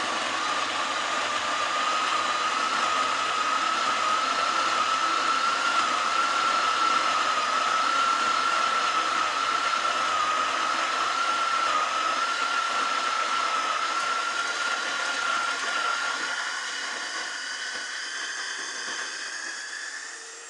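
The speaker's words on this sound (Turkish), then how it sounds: "Öğütüme başlıyoruz. Bir kere bastık açıldı. Bir daha basıyoruz." A Zwilling Enfinigy electric coffee grinder grinds coffee beans in a steady, loud, continuous whirring hum, its pitch shifting slightly near the end as the beans run out.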